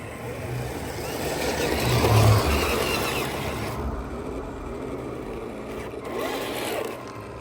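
A 1/16 scale Coolbank M5A1 RC tank drives on its tracks with a continuous whirring motor and rattling track noise, close and moderately loud, rising briefly and then easing off.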